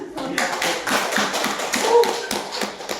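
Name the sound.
applause in a classroom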